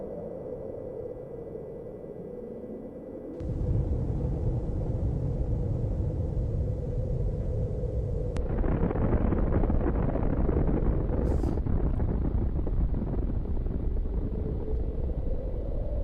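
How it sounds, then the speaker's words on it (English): Archival film soundtrack of a nuclear weapon test explosion in the Arctic: a steady low roar swells abruptly into a heavy, sustained rumble with broad hissing noise, loud and continuous to the end, with no voices. "And here's a movie of that explosion."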